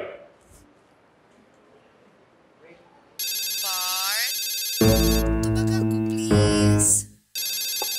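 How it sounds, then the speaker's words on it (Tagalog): A cell phone rings with a loud, repeating electronic ringtone that starts abruptly partway through and keeps going, close and dominant, after a quieter stretch with faint background sound, in a Filipino TV comedy scene set at a police station. "Permission to answer my cell phone, sir."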